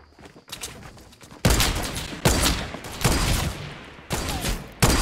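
Fortnite gunfire: several loud, sharp broadband shots in a burst of blasts, each with a short decaying tail, spaced irregularly across the span with a quieter lead-in and no talking.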